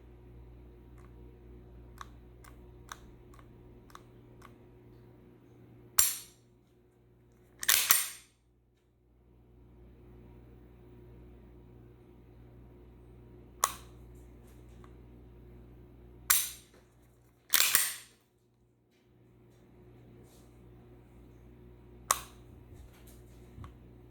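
A SIG P226 pistol's trigger is dry-fired in double and single action, sharp close metallic clicks spaced every few seconds, some as single snaps and some as quick doubled clacks, in a quiet room.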